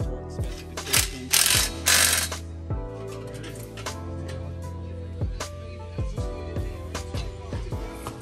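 Ratchet wrench clicking in repeated quick bursts while tightening Spoon N1 exhaust bolts on an FK8 Honda Civic Type R in a workshop, with short pauses and a few metallic clinks between strokes, close and fairly loud.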